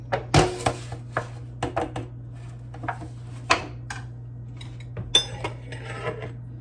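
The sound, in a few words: ladling lasagna sauce into aluminum pan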